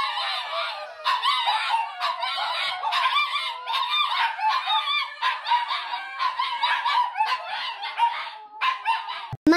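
A dog barks angrily in rapid, repeated bursts, loud and close, continuing throughout with no talk over it.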